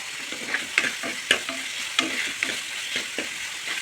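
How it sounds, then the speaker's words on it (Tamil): Onions and tomatoes sauté in a pan for a peanut kurma, a steady sizzle with intermittent scraping strokes of a spoon stirring through the mixture, close and fairly loud with no voices. "வெங்காயமும் தக்காளியும் நல்லா வந்து வதங்கட்டும் அது வரைக்கும் நம்ம வதக்கிக்கலாம்"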